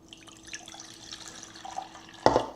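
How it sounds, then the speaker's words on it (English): Water poured from a pot into a measuring container, a faint trickle that ends in a short, loud splashing pour, close by with no talk. "We're just gonna drain this water into this measuring thing."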